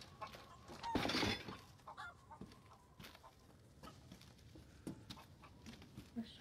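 Chickens in the video game Resident Evil Village cluck quietly in short scattered bursts, with one louder flurry of clucking and squawking near the start and soft thumps and patter around them.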